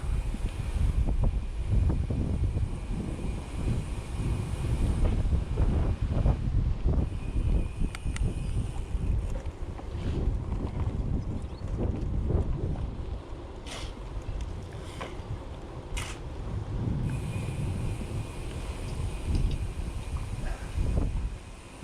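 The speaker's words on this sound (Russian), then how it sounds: "С боковым ветром, блин, все время." Strong crosswind buffets a moving rider on a road trip between Shakhty and Matveyev Kurgan, a continuous loud roar of wind noise across the microphone with gusts rising and easing throughout, and no talk.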